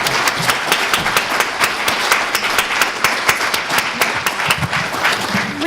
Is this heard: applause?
yes